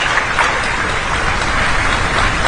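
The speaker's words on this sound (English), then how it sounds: "Let's give a huge round of applause." A large crowd applauds at an education fair inaugural ceremony, a loud, dense, even wash of clapping with no voices on top.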